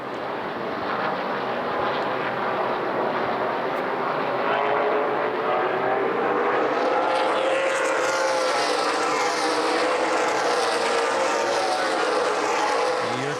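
Race cars circle the oval at Lucas Oil Raceway Indianapolis during a CRA Super Series 100-lap event, a dense steady engine roar from the pack with a rising, sweeping whine as cars pass, continuous and loud throughout.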